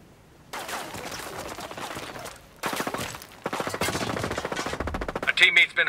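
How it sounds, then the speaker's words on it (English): Enemy gunfire in the video game Ghost Recon Breakpoint: long automatic bursts of rapid shots, steady and fairly close, pausing briefly before another extended volley. "I hear enemy fire in the area."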